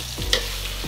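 Food is stirred and tossed in a sizzling frying pan, a quick scraping pass over a continuous hiss of frying, close and fairly loud with no talk.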